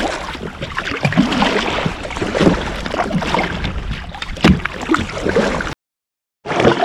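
Paddling a kayak back to shore from Bognor Rocks on the sea: continuous watery sloshing and wind buffeting on the microphone, close and fairly loud, with a brief dropout near the end.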